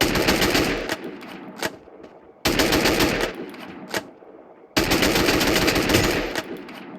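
Rapid automatic gunfire from the mobile shooter game Free Fire, three loud sustained bursts separated by brief pauses and single shots, close and dominant with no talking.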